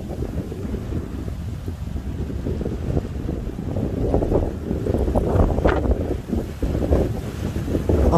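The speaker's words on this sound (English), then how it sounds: "in Perth today is windy" Wind buffets a microphone outdoors in Perth during a drone test flight, a rough, gusting rumble that rises and falls in loud bursts throughout, with no talking.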